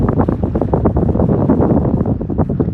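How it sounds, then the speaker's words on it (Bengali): Gusty seaside wind on the Khobar Corniche, Saudi Arabia, around sunset buffets the microphone in steady rumbling bursts, loud and close, with no voices. "তাও তো এখন একটু বাতাস আছে।"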